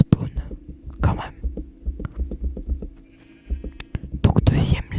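Minecraft sheep bleat several times in a game setting, the short bleats surfacing between soft whispered talk and faint in-game clicks and steps.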